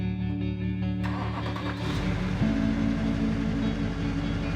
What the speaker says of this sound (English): Most people hear the turbo before they see the truck.